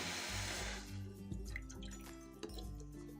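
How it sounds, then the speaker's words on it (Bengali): Water is poured into a cooking pot on a gas stove: a brief rushing pour at the start, then quieter splashes and drips settling in the vessel. "একটি পাত্রের মধ্যে দিয়ে দিচ্ছি বেশ কিছুটা পরিমাণে জল।"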